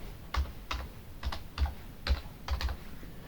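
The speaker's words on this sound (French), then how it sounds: "On tape notre date, 15/01/2025." Keys pressed on a computer keyboard while a date is entered into a LibreOffice spreadsheet cell, about nine separate clacks in an uneven typing rhythm, close and fairly quiet against a faint room background.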